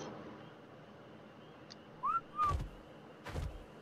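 Player character in the video game Ark whistling a follow command to tamed creatures, two short rising whistle notes over a quiet ambient bed, followed by a couple of soft thuds.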